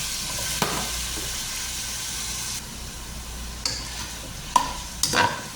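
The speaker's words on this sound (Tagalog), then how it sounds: "ilagay na po natin yung chicken feet ayan igigisa po dito natin siya" Chicken feet are sautéed in a pan with onion and ginger, a steady sizzle and hiss broken by several sharp stirring scrapes and clanks of a utensil toward the end.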